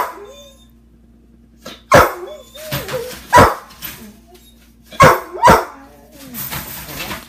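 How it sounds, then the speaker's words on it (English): Puppies bark indoors at breakfast time. About five sharp, loud barks come in short bursts with whimpers and yips between them, while someone speaks quietly in the background. "No barking."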